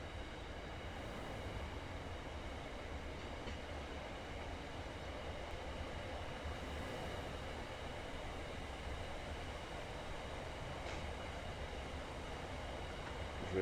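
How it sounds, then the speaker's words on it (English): Steady rumble of a double-decker passenger train running in the Train Sim World 6 video game, a continuous even drone from start to end with no talk over it. "Oh, it's a double-decker train."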